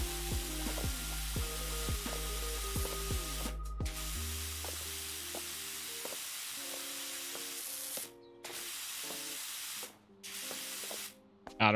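A pressure washer in Power Wash Simulator sprays multi-purpose cleaner in a garden, a continuous hissing spray that cuts out briefly a few times, with tonal game music and chimes underneath.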